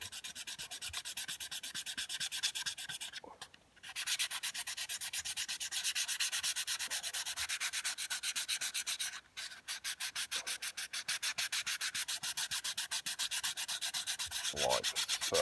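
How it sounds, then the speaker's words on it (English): Light hand sanding with sandpaper on resin coasters makes a steady, rapid back-and-forth rasp, close and continuous for about fifteen seconds, with two short pauses along the way. "So give them a light sand."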